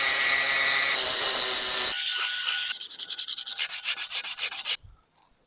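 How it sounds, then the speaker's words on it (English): Hand sanding of scratched alloy wheel spokes with 120-grit sandpaper ahead of repainting, on a classic Enkei JDM wheel: steady loud scraping that breaks into quick rhythmic back-and-forth strokes, then stops. "I also need to hit these deep scratches on these spokes here and a bit of 120 sandpaper to really smooth it out before repainting."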